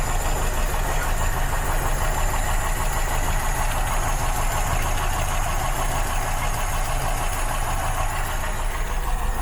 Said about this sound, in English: The auto choke idle is not right. Let's just see where it brings itself.